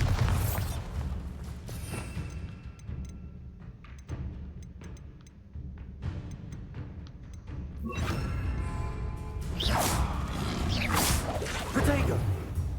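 Bombarda blasting spell in Hogwarts Legacy: after a stretch of softer whooshes and clicks, loud booming bursts and sweeping whooshes erupt in the last few seconds, heavy and close.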